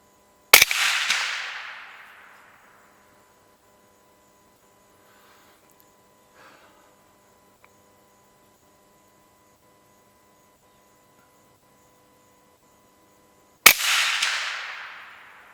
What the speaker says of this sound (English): Shoot a 3-round group and then go have a look.